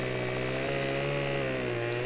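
A chainsaw cuts a tree in Farming Simulator 17, its engine holding a steady, loud, buzzing drone throughout with no talk.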